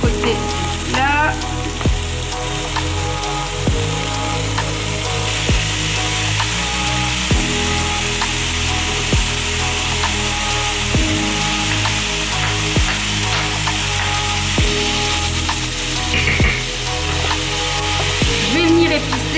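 Ground meat frying in a pan, a constant bright sizzle close by, overlaid with steady rhythmic background music and periodic thumps throughout.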